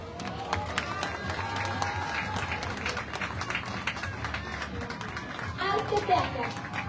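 Street crowd at a Day of the Dead parade in Tepeaca applauds as an arts contingent passes, scattered clapping over a steady outdoor crowd murmur and festive background noise, swelling briefly near the end.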